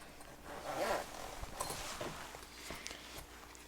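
A nylon zippered pistol case for a Springfield Armory Hellcat is unzipped, a faint close rasping pull of the zipper with light handling rustle around it.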